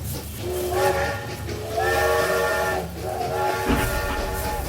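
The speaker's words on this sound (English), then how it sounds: "The blasts of the train horn punctuate the rhythmic, mechanical chuff of the steam engine." Long blasts of a steam train whistle sound over a steady chuffing, hissing engine rumble, loud and close.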